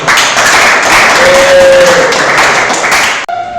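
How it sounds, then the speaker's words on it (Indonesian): Classroom applause for a student group, a dense steady patter of many hands clapping at a loud, even level for about three seconds before stopping abruptly. "kita kasih tepuk tangan untuk"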